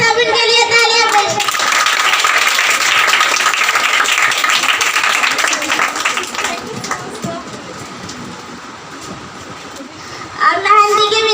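A crowd claps for a riding trophy winner at an indoor prize distribution, a dense sustained applause for about ten seconds, with speech at the start and end.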